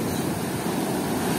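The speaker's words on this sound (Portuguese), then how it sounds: "As ondas aqui são fortes." Strong ocean surf breaking on a summer beach, a continuous loud roar of churning water and wash with no voices.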